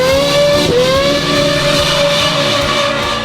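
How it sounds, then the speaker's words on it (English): The high-pitched naturally aspirated V8 of a Ferrari 458 Spyder revs hard and sustained, with a brief dip near the start before holding a loud, steady wail throughout. "this is one of the last naturally aspirated V8s Ferrari ever did"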